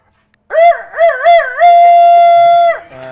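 A person imitates a chicken crowing with the voice: two short wavering bursts, then one long held cock-a-doodle-doo note, loud and close.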